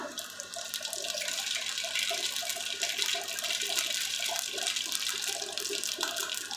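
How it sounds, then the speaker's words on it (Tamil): Mustard seeds crackle and splutter in hot oil in a pan for a brinjal thokku, giving a dense, steady sizzle with quick pops throughout. "எண்ணெய் நல்லா சுடரட்டும். கடுகு சேர்த்திக்கலாம்."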